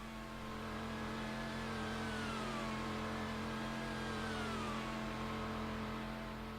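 A Formula One car trundles slowly down the pit lane during a stop for tyres and fuel, its engine a steady, continuous mid-pitched drone with a gently shifting tone, alone.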